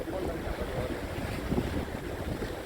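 Strong wind buffets the microphone outdoors on a fishing trip during a cold-wave warning, a constant loud rumbling roar with no talking.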